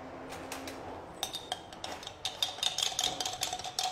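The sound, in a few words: mixing salad ingredients in a bowl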